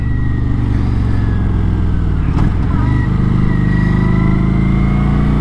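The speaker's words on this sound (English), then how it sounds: "You're still riding a motorcycle" Loud, close engine of a Kawasaki Vulcan 900 Classic cruiser motorcycle running steadily with a deep rumble, shifting pitch briefly midway as it rides on.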